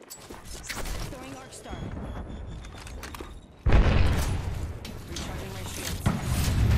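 A frag grenade explodes in Apex Legends with a loud, deep boom partway through, preceded by quieter game noise and a player's voice, then a rumbling aftermath.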